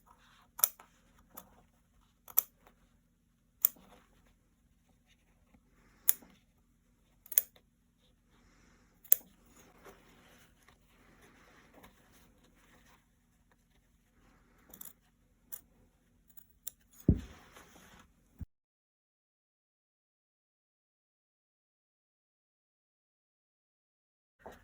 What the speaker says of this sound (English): I like to fold it in half first, and then I can put my scissors underneath.